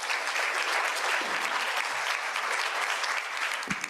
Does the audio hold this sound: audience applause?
yes